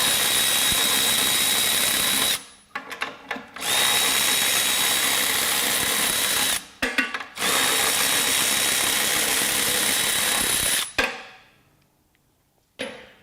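A Milwaukee M12 FUEL cordless ratchet spins bolts out in three loud, close bursts, each a sustained high whirring buzz of a few seconds separated by brief pauses with clicks and handling noise, then quiet.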